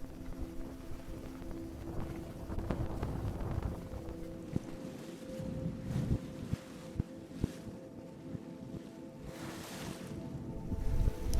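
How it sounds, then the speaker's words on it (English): Waves breaking against a seawall beside a harbor channel near San Diego, heard from a moving cruise boat: a steady rush of surf and water with wind buffeting the microphone, plus a low engine hum throughout. "There it is with the waves breaking on the seawall."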